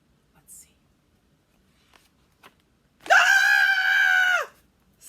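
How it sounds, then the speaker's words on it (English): A skeleton character in a read-aloud picture book lets out a loud, sustained scream of about a second and a half after a few faint small sounds, alone and close. "Skeleton screamed!"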